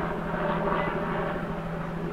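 An FPV model plane, a Mars 1200 flying with INAV at about 57% throttle, gives a steady electric motor drone in flight. The hum is moderately loud and constant, with no talk.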